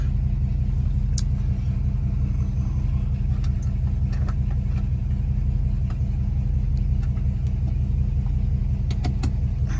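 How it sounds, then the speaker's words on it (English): A 1955 Buick Special Riviera engine idles steadily with a low, smooth rumble, broken by a few faint clicks and light jingling. "let's take a listen to the engine. Runs really sweet, nice and smooth"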